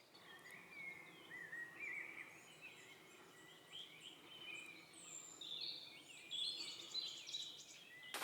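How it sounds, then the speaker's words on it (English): Assorted birds calling around ponds in Drava Regional Park, faint high chirps and song scattered over a steady bed of insect buzzing, distant and outdoors with no talking. "There's a lot of different birds here."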